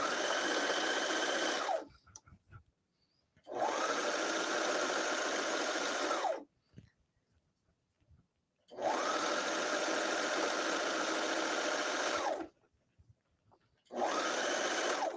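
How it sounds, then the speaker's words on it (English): A Brother Airflow serger stitches over basting lines on fabric, trimming away excess, in three long steady bursts of rapid whirring separated by quiet pauses. "I'm just going to serge right over my basting lines, getting rid of all that extra fabric in there."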